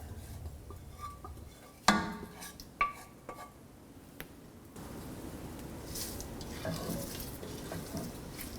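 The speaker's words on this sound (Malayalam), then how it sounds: "ഇതിനി ഇതുപോലെ വെണ്ടയ്ക്ക മപ്പാസിലോട്ട് ഒഴിച്ച് മിക്സ് ചെയ്യുക" Sauce is poured into a pan of okra mappas, a Kerala-style okra curry, and stirred, with a few sharp clinks of a utensil against the pan followed by soft sloshing, scraping mixing sounds, close and fairly quiet.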